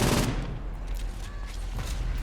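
Bursts of gunfire from the video game Saints Row 4, sharp loud reports in a rough cluster at the start and again near the end, over a constant low rumble with no speech.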